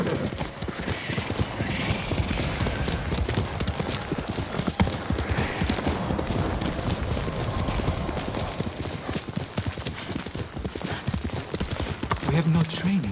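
Horse hooves clip-clop steadily in the video game Ghost of Tsushima, with gameplay sounds and voices layered over the galloping rhythm throughout.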